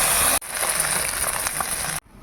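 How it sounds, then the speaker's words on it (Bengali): Small fish frying crisp in hot oil in a home kitchen give a steady, bright sizzle that starts abruptly and holds for under two seconds before cutting off. "এবার মাছগুলো ভেজে নেব"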